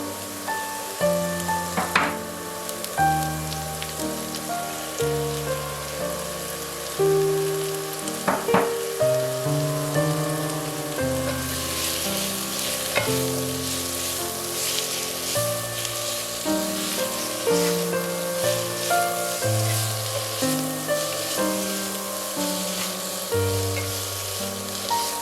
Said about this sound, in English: Add the carrot and onion,